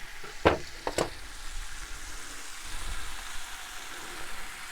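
Pork loin steaks frying in a pan on a camp stove, a steady quiet sizzle with a few sharp utensil clinks early on.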